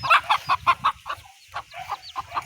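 Close, loud chicken clucks come in a quick rhythmic series, then soften into a looser string of clucks from the flock.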